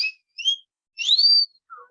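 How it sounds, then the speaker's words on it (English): A series of short whistled notes, two quick chirps followed by a longer rising-then-steady tone and a faint low note at the end, clear and alone with no talking. "I love that whistle."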